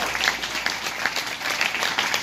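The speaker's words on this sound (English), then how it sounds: "Give yourselves a hand clap." Church congregation applauding, a dense wash of many hands clapping steadily and fairly close throughout, with no talk over it.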